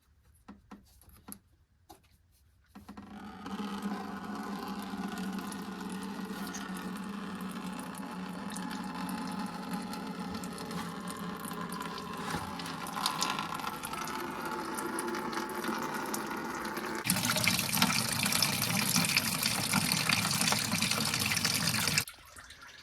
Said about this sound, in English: we're gonna drain all the coolant and get it ready